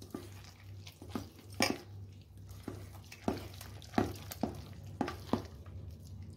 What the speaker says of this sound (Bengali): এখন আমি এগুলো সবগুলো মিলিয়ে চটকিয়ে নেব ভালো করে।